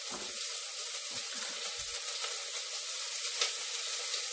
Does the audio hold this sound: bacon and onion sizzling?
yes